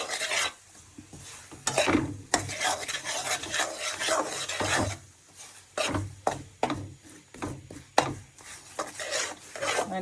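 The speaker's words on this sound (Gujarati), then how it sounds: "ગોળ શેકવા મૂકી દીધું છે જો." A spoon scrapes and stirs jaggery roasting in a pan for sesame chikki in irregular rasping bursts, close and fairly loud, separated by short pauses, with a light sizzle beneath.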